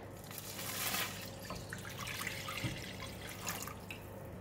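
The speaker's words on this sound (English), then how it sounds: "And now I'm going to put in the water." Water pours into a cooking pot for a Thai tom yum squid soup, a steady splashing trickle that runs throughout at moderate level, close by, with no talk.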